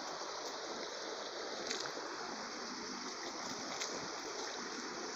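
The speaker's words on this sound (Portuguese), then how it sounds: "Barulhinho de cachoeira, barulhinho de água" Waterfall and flowing stream water at a rural countryside spot, a steady full-band rush that stays loud and constant throughout, with a few faint splashy accents and no voices.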